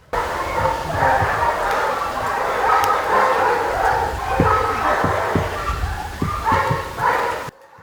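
A dog barks and yips repeatedly in short bursts over a steady background murmur, fairly close and loud.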